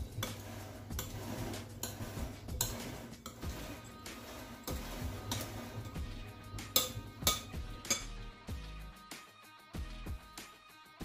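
Fried and unfried almonds tossed with sugar in a bowl, a series of close clinks and taps of a utensil against the dish, irregular and busier toward the end before fading to quiet; no voices.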